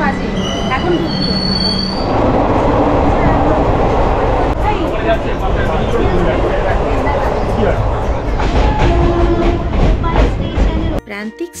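A train pulls into a station in West Bengal. Loud, drawn-out wheel squeals ring over the heavy rumble of the rolling carriages, with voices under the din, and it cuts off abruptly at the end.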